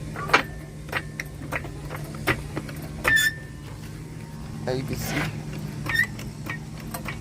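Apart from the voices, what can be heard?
vehicle lift raising a 2018 Ram 1500 truck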